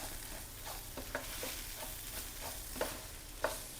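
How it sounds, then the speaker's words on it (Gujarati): Ground spices including turmeric, red chili, coriander-cumin powder and asafoetida stirred into a little oil in a pan, a faint soft sizzle broken by several light scrapes and taps of the spoon. "બધું બરાબર મિક્સ કરી દઈએ"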